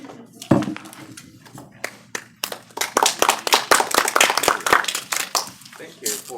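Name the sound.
audience clapping welcoming speaker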